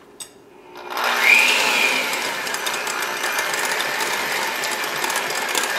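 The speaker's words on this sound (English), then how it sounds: "So I'm going to grab my mixer" Electric hand mixer whirs steadily as it creams 100% vegetable shortening, a continuous close motor hum that starts after a brief clunk and holds at an even level.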